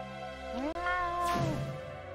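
A cat with laser beams meows in the Space Quest video game, a single drawn-out synthetic meow rising and then falling in pitch, clear and upfront over a steady background game tone.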